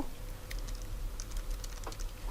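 Keys clatter on a computer keyboard while text is entered into a Word document, quick irregular clicks close by over a faint steady hum, with no voices.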